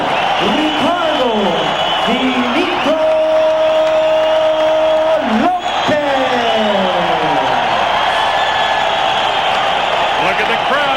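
Boxing arena crowd roars and applauds continuously at a world title bout between Ricardo Lopez and Rosendo Alvarez, a dense wash of cheering under an announcer's amplified voice.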